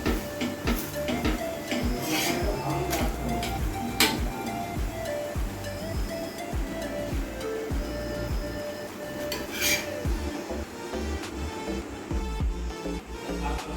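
Fish fries on a very hot, reddened tawa with a close, steady sizzle, broken by sharp clinks and scrapes of a metal utensil against the pan.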